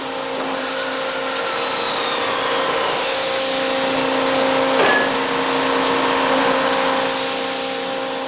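A MacLean 900 series scissor-lift rock bolter installing rock bolts underground, a loud steady mechanical drone with high whining tones and bursts of hissing, continuous throughout.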